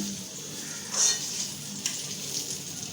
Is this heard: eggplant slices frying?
yes